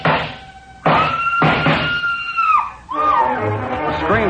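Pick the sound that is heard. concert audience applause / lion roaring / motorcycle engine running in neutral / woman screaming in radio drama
woman screaming in radio drama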